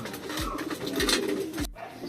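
Pigeons coo outdoors with a few soft, low rolling calls at a steady pace over a busy background of birds and ambient noise, with no talk.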